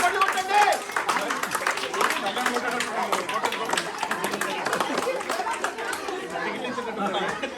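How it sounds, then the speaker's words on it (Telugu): Audience clapping at a school annual day show of dance and song performances, scattered claps rising through loud crowd chatter and babble. "చప్పట్లు కొట్టండి."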